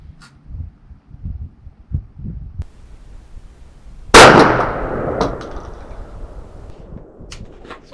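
A single loud shotgun blast from a Remington Nitro turkey load of number 5 lead shot, fired at a 40-yard target, a sharp close report followed by a decaying rumble after some quiet handling noises.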